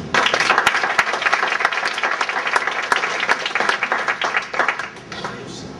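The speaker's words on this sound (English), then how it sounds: "Give him a round of applause." A crowd applauds to welcome Cole Hatter onto a stage, loud, dense clapping that stays steady before thinning out near the end.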